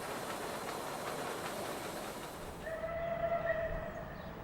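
Steam locomotive Taw Valley works hard climbing a grade while hauling the Orient Express, a steady rumbling roar with rhythmic chuffing. A high, sustained whistle tone cuts in near the end.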